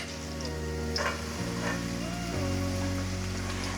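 Crushed garlic, skin on, frying in hot oil for kara boondhi gives a steady, close sizzle with faint crackles throughout, and a low hum runs underneath.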